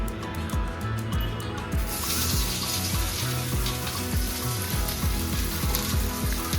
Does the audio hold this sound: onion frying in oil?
yes